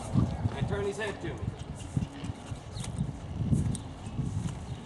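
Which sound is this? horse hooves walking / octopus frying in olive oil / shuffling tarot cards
horse hooves walking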